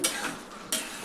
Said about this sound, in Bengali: অল্প নাড়াচাড়া করে নেব। দেখুন তেল ছেড়ে দিয়েছে